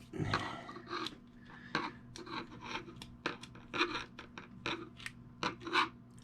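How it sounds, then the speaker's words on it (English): A star drag wheel coming off a PENN Super Mariner #49 saltwater trolling reel with corroded screws, a dense run of close metallic scrapes, clicks and rubbing taps at an uneven pace. "I believe I'm going to take the star drag wheel off right now."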